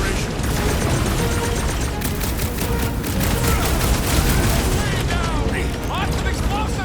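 Rapid bursts of gunfire and booming explosions from Marvel's Guardians of the Galaxy video game, dense and continuous combat noise with sharp crackling shots over a rumbling battle bed.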